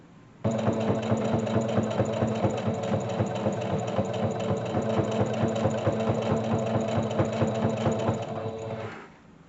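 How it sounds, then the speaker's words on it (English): A sewing machine stitches steadily around the edge of a fabric pot holder, its fast rhythmic mechanical whir running continuously at close range for about eight seconds before stopping. "I'm going to sew around the perimeter"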